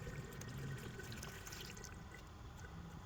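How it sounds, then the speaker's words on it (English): Water pouring into the funnel of a Harbor Freight steam cleaner, a steady close liquid splash and trickle running throughout without speech. "once you got your 800 millimeters of water, go ahead and throw it up in the funnel"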